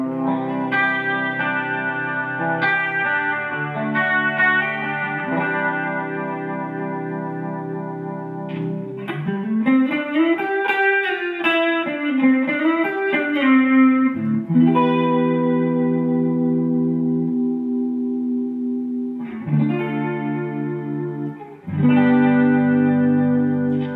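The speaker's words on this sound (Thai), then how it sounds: "ผมก็จะเปิดเป็นคอมเพรสเซอร์คอรัสแล้วก็ดีเลย์ในเสียง A นะครับ" Electric guitar run through a Vitoos VLP8 multi-effects unit with compressor, chorus and delay switched on, playing sustained chords and a bending, sliding lead line with a shimmering, echoing tail, steady and fairly loud throughout.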